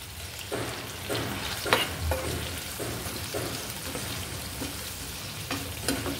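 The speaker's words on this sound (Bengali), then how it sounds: "আলুটা কিছুটা ভেজে নিই।" Potatoes with salt and a little turmeric frying in a pan, a steady close sizzle broken by several scraping stirs at irregular intervals, with no voices.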